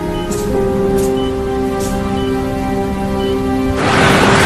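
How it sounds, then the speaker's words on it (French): Steady hiss of rain falling on a surface in Phoenix, with a sustained tonal hum underneath, swelling into a louder, brighter downpour near the end. "Incroyable, il pleut à Phoenix."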